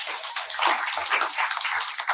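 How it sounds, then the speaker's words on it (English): An audience applauds a senator at a formal welcome, giving a steady wash of many hands clapping at moderate volume for about two seconds, with no talk over it. "Please clap for our senator"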